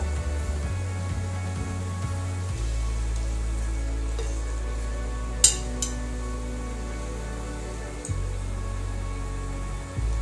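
Balushahi sweets deep-frying in hot oil give a steady low sizzle and bubbling throughout, with a couple of brief clinks partway through and no talking.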